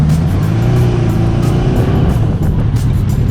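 A Yamaha R6 motorbike launching off the line, its engine a loud, steady close roar with rising harmonic tones throughout, no talk over it.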